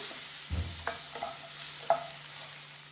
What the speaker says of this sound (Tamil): ரெண்டு பெரிய வெங்காயம் சேர்த்திருக்கேன். இதையும் நல்லா வதக்கி எடுத்துக்கலாம்.